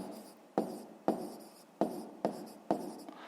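A pen writes out a fifth-grade math solution by hand, its tip scratching across paper in five or six short, close strokes, each starting sharply and fading out, with no talk.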